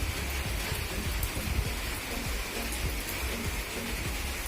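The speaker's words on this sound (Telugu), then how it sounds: "చూస్తున్నారు కదా, వర్షం అయితే పడుతూ ఉంది." Rain falls steadily in a dense, even hiss of countless drops with faint patters mixed in, continuous throughout and with no voices.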